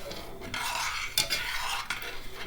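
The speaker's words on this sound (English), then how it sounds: "I'm just going to keep stirring it." A utensil scrapes and stirs thick, bubbling sausage gravy in a pan, close and steady with a few sharper clinks against the pan, and no talking.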